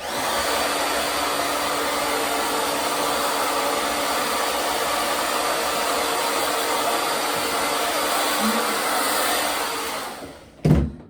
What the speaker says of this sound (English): I take my blow dryer.